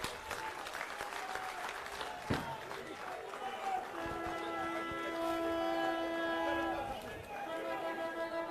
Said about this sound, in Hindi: भाई अरविंद केजरीवाल जी को जोरदार तालियों से स्वागत कीजिए